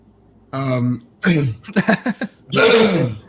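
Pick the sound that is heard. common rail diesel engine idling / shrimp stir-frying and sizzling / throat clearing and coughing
throat clearing and coughing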